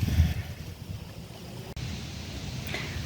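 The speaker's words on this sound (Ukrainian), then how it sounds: "Пройшов човен" Water sloshes and laps in a steady wash with wind rumbling across the microphone, like waves rolling in after a boat goes by.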